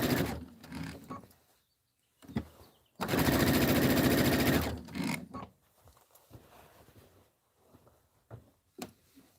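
A sewing machine stitches fabric in a fast rattling burst lasting about two seconds, close and loud, with shorter stitching runs and quiet handling noises before and after, with no talking.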